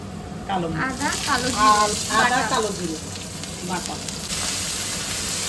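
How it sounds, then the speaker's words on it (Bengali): Spices for a Bengali phoron, ground ginger and black cumin with garlic, sizzle in hot oil in a home kitchen. A steady loud hiss runs throughout, and people talk over it. "আহ কি ভালো ফোড়নটা থেকে স্মেল বেরিয়েছে"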